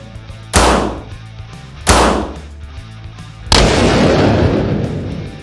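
Three loud, close .380 pistol shots firing Super Vel solid copper hollow points into a gel block at a range, spaced unevenly, each with a booming report and lingering echo.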